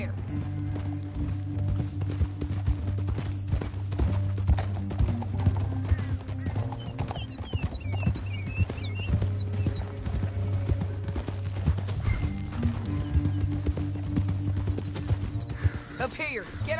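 Steady clip-clop of horse hooves at a brisk pace in the video game Red Dead Redemption, with background music and a voice talking over it.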